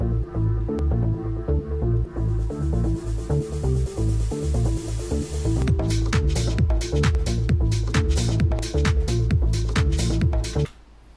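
Full electronic music track produced in FL Studio at a drop, loud and dense, with pounding bass hits, a steady melodic line and sharp percussive hits that thicken midway before cutting off at the end.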